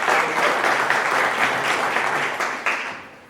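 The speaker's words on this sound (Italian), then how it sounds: "accogliamola con un applauso" An audience at a conference in Roccavaldina, Italy, breaks into steady applause, many hands clapping together, tapering slightly toward the end.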